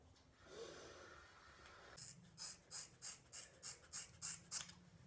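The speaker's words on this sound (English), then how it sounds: "I think I'm gonna cut my fringe." Scissors snip through a hair fringe in a regular series of about nine close, crisp cuts after a brief rustle of handling.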